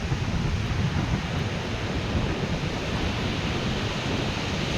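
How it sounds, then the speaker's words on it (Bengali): Steady roar of sea surf with wind rushing over it on a long, open beach, a dense, continuous wash of noise without pause. "খুব সুন্দর সমুদ্রের গর্জন, হাওয়া সব রয়েছে"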